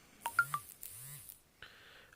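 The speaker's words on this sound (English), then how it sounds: "I am sorry, my phone has just gone off." A mobile phone rings out twice in short tonal bursts during a painting session with Warhammer Age of Sigmar models, followed by a brief higher electronic beep; moderately loud and close, with no talk over it.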